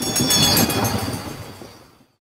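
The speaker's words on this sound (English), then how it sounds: "The train is about to leave the station." A train pulls out of the station in an animated safety cartoon, with a loud, steady rumbling roll that fades away over about two seconds to silence.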